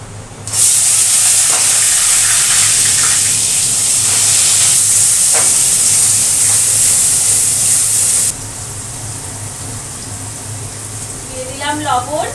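Chopped onions dropped into hot oil with white cumin seeds set up a loud, steady frying hiss that runs unbroken for about eight seconds, then eases to a softer sizzle, with faint stirring near the end.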